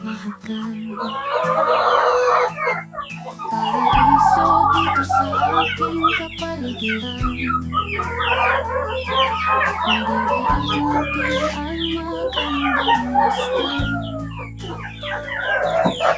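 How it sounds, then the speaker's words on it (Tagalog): Chickens cluck steadily in a busy chorus, with a rooster crowing through it; close and loud, with a low rumble underneath. "Ito mga manok din to."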